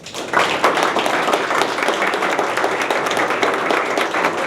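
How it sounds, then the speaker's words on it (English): Applause from an audience at an enterprise AI conference, starting abruptly and holding as a loud, dense crowd of clapping hands with occasional sharper claps, with no voices heard. "Please give them a round of applause."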